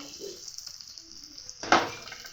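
Cauliflower tossed with onions and green chillies fries in a pan, giving a faint steady hiss that ends in one brief louder burst of sizzle as the pieces are stirred.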